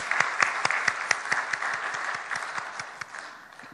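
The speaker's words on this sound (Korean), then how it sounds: "박수하겠습니다" A congregation at a Sunday church service gives rousing applause for members reading through the Bible, with many hands clapping densely and steadily near and loud, gradually easing toward the end.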